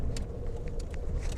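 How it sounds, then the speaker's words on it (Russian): Cars passing on a road near Vladivostok, heard from inside a stopped car: a low, steady engine and tyre rumble with a few brief whooshes of vehicles going by close, no speech. "Вон машины проезжают, что я аж на аварийку встала."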